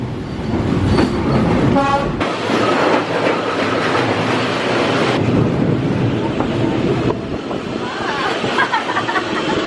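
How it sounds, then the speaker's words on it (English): A train rumbles past close by along Hanoi's narrow train street, a loud continuous roar with clattering wheels and a brief horn toot, filling the whole stretch without any speech. "ready for when the train comes"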